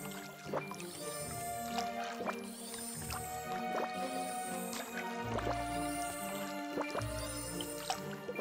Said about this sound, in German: Dann einmal gießen.